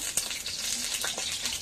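Mustard oil heats in a karai (wok) for a Bengali mutton kosha, giving a steady, soft sizzling hiss that stays fairly even throughout, with no voices.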